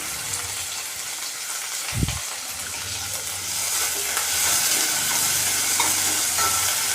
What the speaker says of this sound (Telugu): ఉల్లిపాయలు వేసేద్దాం